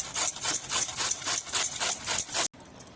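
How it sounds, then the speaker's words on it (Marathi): Cabbage quarters rubbed against a grater into long shreds, loud rhythmic rasping strokes close by that stop abruptly near the end. "असं आपल्याला कोबी पकडायचं आहे, लांबड असं किसून घ्यायचं"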